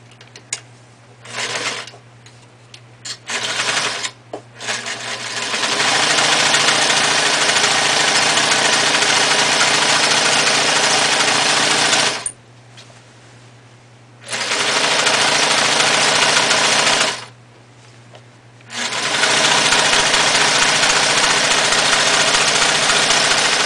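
An old sewing machine runs in loud, close bursts as it stitches a seam, its steady mechanical whir stopping and restarting several times with short quiet pauses between runs.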